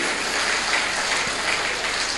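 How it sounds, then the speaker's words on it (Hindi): Sustained applause from an audience at a Hindi religious discourse, steady dense clapping filling the whole stretch at a fairly loud level with no talk over it. "हाँ ताली बजा लो, ताली बजा लो"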